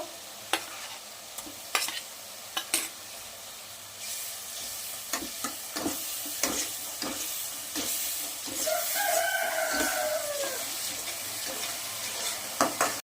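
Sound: sautéing ginger-garlic paste in a pan

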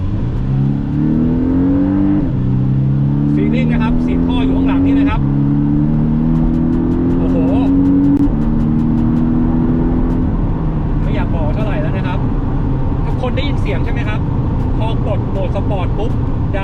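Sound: Porsche 718 Boxster PDK accelerating in sport mode

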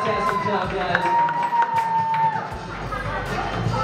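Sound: crowd applause and cheering for beer pong finalists

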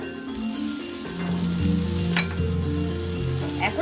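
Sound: stirring ginger, garlic and cumin paste frying in pan

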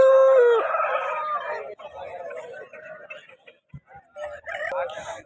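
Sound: rooster crowing at Vijayawada rooster market

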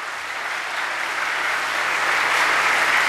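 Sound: audience applauding and cheering students

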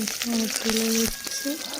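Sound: chillies frying in oil

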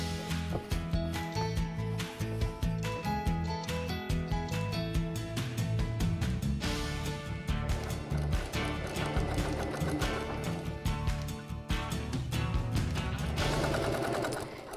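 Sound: sewing machine stitching fabric

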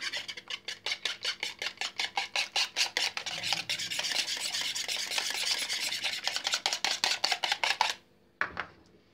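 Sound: whisking eggs

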